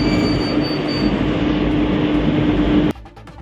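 A train rolls along the rails in a steady, loud rumble with a faint high squeal running through it, then the sound cuts abruptly near the end, leaving scattered rattling knocks.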